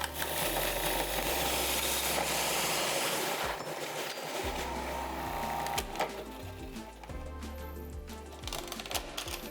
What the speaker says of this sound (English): in a food processor, combine your vegan butter, sugar, and vanilla and peppermint extracts